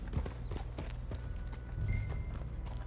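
Steady clip-clop of horse hooves at walking pace in the video game Red Dead Online, rhythmic and fairly close, with a brief low snort near the middle.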